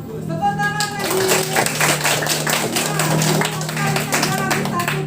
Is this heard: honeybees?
no